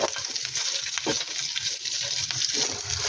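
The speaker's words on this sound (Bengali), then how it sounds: "এখন শুকনা মরিচ ভাজা নেব" Dried red chillies, with some green chillies, sizzling in hot oil, a steady close crackling hiss throughout with occasional stirring scrapes.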